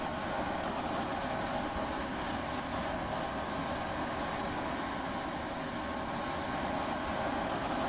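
A jet engine spools up during a ramp start in the Falcon BMS 4.33 flight simulator game, a loud steady roar with a constant whine running unbroken from start to end and no talking.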